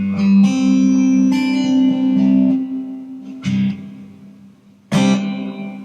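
Strummed acoustic guitar chords drenched in heavy reverb and delay, ringing out in a wash with a few sharp new strums.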